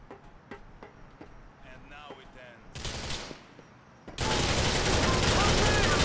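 Rapid automatic gunfire from an AK-47 in the video game GTA IV, loud and dense bursts of shots near the end, preceded by lighter clicks and a short rushing noise.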